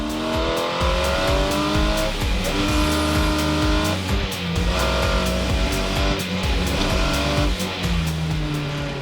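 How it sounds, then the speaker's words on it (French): Car driving a slalom course between marker poles, engine revving and shifting up and down in pitch continuously, with tires squealing through the tight turns, loud and close throughout. "un slalom, ça consiste un peu comme en ski, à part que c'est avec une voiture"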